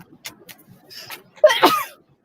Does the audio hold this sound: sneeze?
yes